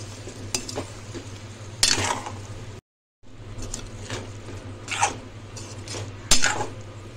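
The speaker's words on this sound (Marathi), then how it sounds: "ह्याच्यामध्ये आपण बटाटा टाकून घेऊया। बटाटा सर्व मिक्स करून घेऊया।" A spoon scrapes and clatters against a frying pan stirring potatoes and drumsticks, in repeated strokes with occasional louder knocks and a faint sizzle beneath, and a brief silent gap midway.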